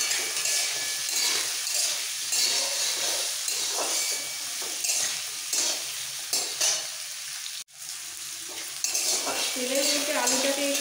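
Potatoes frying in hot oil for a beans and potato curry, a dense continuous sizzle with repeated stirring scrapes close by, briefly dipping before the crackle resumes.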